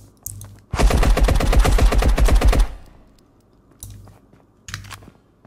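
A weapon fired in the sci-fi shooter Marauders lets off a loud rapid automatic burst lasting about two seconds, followed by a couple of short fainter bangs.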